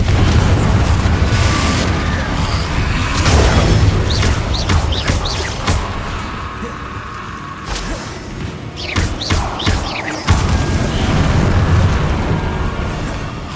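Fiery Confringo spell blasts in Hogwarts Legacy on PS5, a run of booming explosions and crashes over dense game battle noise and music, loud and continuous with sharp bursts recurring throughout.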